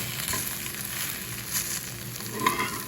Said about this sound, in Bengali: ডিমটা ঘুরিয়ে ঘুরিয়ে আমি এই পাউরুটির উপরে ছেড়ে দিচ্ছি